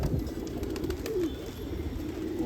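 Racing pigeons kept on a rooftop loft coo softly, low throaty calls repeating under a faint, steady background.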